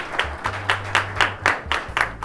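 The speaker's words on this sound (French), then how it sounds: "Veuillez l'applaudir." At an awards ceremony, a small audience claps in a quick, steady rhythm, each clap crisp and close. The applause is brief and sounds thin, like only a few people clapping, with a low hum underneath and no talk.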